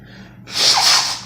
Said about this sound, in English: sorry, I got blow my nose, I'm kind of sick